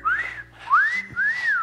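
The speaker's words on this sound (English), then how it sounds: "If it's something that's super nice, we actually give it a whistle." A person whistles three loud, close, sliding notes, each rising and then falling in pitch, with brief gaps between them and no speech.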